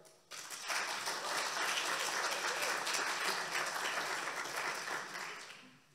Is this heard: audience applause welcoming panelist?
yes